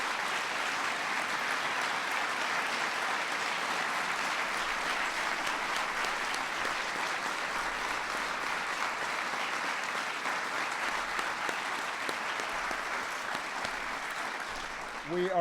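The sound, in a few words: applause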